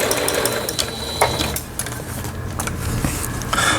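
A repaired Singer household sewing machine stitches a zigzag pattern, its needle mechanism whirring in a steady, fast rhythm close up, with a few brief clicks and no talking.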